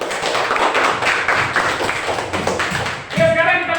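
An audience claps for the first student group after its presentation in a university class session, a steady wash of applause lasting about three seconds before a voice starts speaking over the tail of it.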